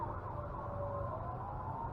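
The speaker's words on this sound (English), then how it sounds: "That's a lot of sirens, and they're right up over the hill." Several emergency vehicle sirens wail from somewhere beyond a nearby hill, a steady, fairly faint rising and falling tone heard alone from a distance.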